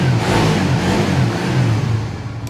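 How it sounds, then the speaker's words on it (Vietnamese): A Suzuki GSX-R150R motorcycle engine runs steadily close by, with a smooth, even hum and a slight rise and fall in pitch, loud and with no voices. "Đó, anh em nghe tiếng máy ha."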